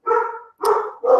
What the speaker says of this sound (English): I'm also a huge advocate for my my loving little dogs to join in.